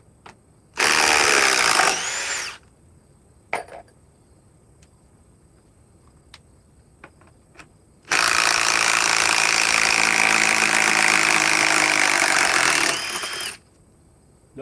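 A Milwaukee compact impact wrench runs in two loud, close bursts, one short and one lasting several seconds, with faint clicks and knocks in the quiet gap between them.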